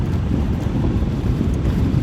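Heavy wind buffets the microphone of a rider on an ER150Q motorcycle at night in a constant low roar, loud and close, with no voices heard.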